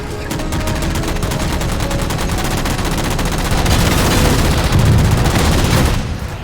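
Rapid, dense gunfire in Halo 4 rattles loudly and almost continuously while jammers are shot down, with heavy bursts and booms layered on top and a sudden cut near the end.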